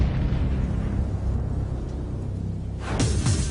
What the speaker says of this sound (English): It's called explosion welding.